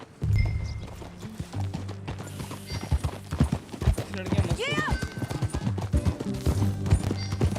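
Horse hooves clip-clop in a steady trot in Red Dead Redemption 2, close and fairly loud. Characters talk over the hoofbeats, and a whinny-like sweep rises midway.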